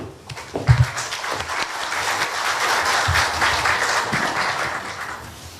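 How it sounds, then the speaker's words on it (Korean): An audience at a Korea University forum claps steadily for several seconds to welcome a university president back to the lectern, with the applause building and then holding at a moderate level. "환영의 박수, 격려의 박수 부탁드리겠습니다"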